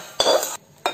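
A spoon stirs onion and tomato chutney in a cooking pot, giving two short scraping, clinking strokes close by with a quiet pause between them.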